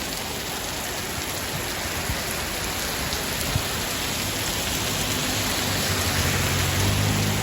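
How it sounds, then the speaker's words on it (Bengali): Heavy rain pours steadily in Malaysia, a dense, unbroken hiss of drops hitting surfaces that stays loud and even throughout, with no voices. "হায় রে বৃষ্টি রে, কি অবস্থা দেখেন, কি অবস্থা বৃষ্টি"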